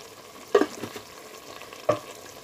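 Two sharp scrapes of a spatula through a pan of potato and eggplant roasting with cumin, coriander and garam masala powders, separated by a soft, faint sizzle.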